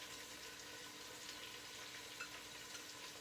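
Celery, carrots and garlic frying in a pan give off a steady, soft sizzle with faint crackles throughout, fairly quiet and constant, with no talking.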